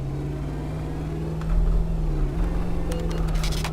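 A truck with a 6.2-litre engine in Euro Truck Simulator 2, driven with a steering wheel, droning with a steady low, pulsing hum that takes on a helicopter-like throb, swelling slightly louder partway through with faint clicks near the end.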